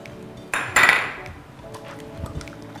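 A utensil clinks and scrapes against a pot as chicken and zucchini casserole is stirred, with one bright metallic clatter followed by softer scraping.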